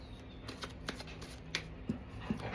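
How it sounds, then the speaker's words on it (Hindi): A tarot deck is shuffled, with several soft card slaps and riffles and some cards dropping out, a quiet close sound against light background hiss. "Some cards have fallen out."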